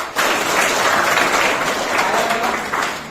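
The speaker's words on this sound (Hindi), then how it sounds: "बजाओ ताली अपने लिए।" Students in a maths class clap for themselves, a dense burst of group clapping that starts abruptly and stays loud and steady for a few seconds.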